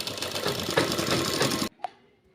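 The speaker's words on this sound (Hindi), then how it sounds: "सबसे पहले मैं आधा इंच फोल्ड करके हम सिलाई लगा लेंगे" A sewing machine runs steadily, stitching a half-inch fold in trouser fabric, then stops abruptly and is followed by a single sharp click near the end.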